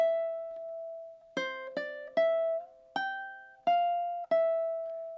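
A ukulele plays the opening two measures of a duet: a held note, then six crisp plucked notes at an even, unhurried pace, quiet and close with no voices.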